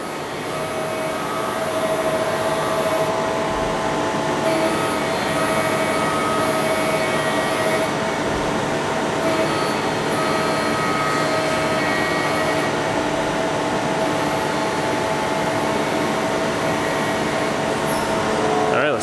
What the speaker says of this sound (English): Check this out, doing a back chamfer operation.